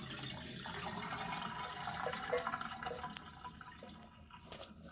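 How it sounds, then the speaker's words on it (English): Tap water runs steadily into a bowl while cut potatoes for French fries are rinsed, a constant close hiss with faint splashes and drips and no talking. "I like to rinse that off the potato."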